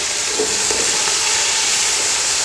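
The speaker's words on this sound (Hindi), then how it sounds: "अच्छी तरह मिक्स कर लेंगे और टमाटरों को भी अच्छी तरह फ्राई कर लेंगे" Medium-sized chopped tomatoes frying in a pan with browned paste and being stirred, a loud, steady close-up sizzle with faint scraping from the stirring.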